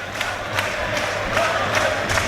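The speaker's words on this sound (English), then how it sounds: "Crowd now getting involved for the final few minutes" Football crowd at York City v FC Halifax Town, a National League match, in the final minutes: a steady roar of distant cheering and chanting with periodic swells, loud and continuous throughout.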